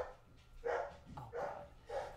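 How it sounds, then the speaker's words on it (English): A pet dog at home barks in a few short, muffled bursts from another room, faint and somewhat distant, with quiet gaps between the yelps. "Sorry, that's my dog."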